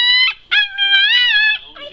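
A pet dog howls up close in long, wavering tonal cries, with two or three sustained phrases separated by short breaks over about two seconds.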